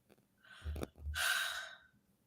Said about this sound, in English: That's all I can give is breathing.